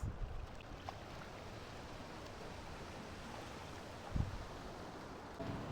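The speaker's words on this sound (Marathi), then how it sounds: "पाण्याची भरती चालू झाली हां आता थोडं पुढे जाणं योग्य नाही" Rising tide on a rocky seashore in Maharashtra, with a soft, continuous wash of waves and light wind rumble, fairly faint and distant, with one brief louder surge near the end.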